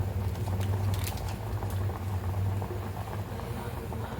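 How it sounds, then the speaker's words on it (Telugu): Sambar boils in a pot on a home stove, with a steady, close bubbling and soft patter that continues without a break and without any voices. "ఎంత నీట్గా ఎలా బాయిల్ అవుతుందో"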